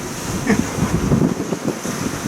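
Steady wind rush and breaking waves surround a sailing boat on the Mediterranean off France, moving at about 7.7 knots in 25 knots of wind with reefed main and genoa, a constant roaring wash with no speech.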